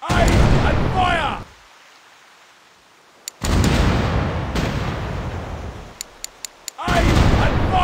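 Ship cannons fire in a naval war game played on an Android phone: long, heavy booming blasts come in three rounds separated by quiet gaps, with a few sharp clicks and a voice in the mix.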